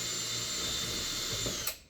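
A power drill with a 2.5 pilot bit bores into a Sprinter van floor, giving a steady high motor whine up close. The whine cuts off abruptly near the end, and no one speaks.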